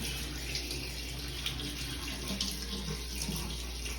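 Water running from a tap and spilling onto the floor while working on a TSX, a faint, steady hissing flow with small splashy bursts, continuous and quiet, no talking.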